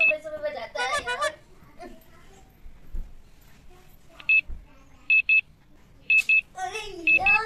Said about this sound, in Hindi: अरे यार ये अलार्म तो मुझे उठा के नहीं छोड़ेगा।